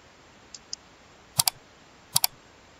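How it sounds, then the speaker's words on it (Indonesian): A few sparse clicks, then two short double-clicks of keys on a computer keyboard while titling an office meeting-minutes document, close and fairly quiet, with no talking. "Ini akan saya ketikkan ya"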